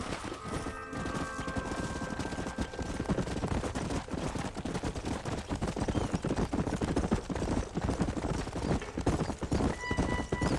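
Horse hooves clip-clop steadily on the ground in the open-world western video game Red Dead Redemption on PS5, a continuous rhythmic trotting with a brief whinny and gunfire-like cracks mixed in, no one talking.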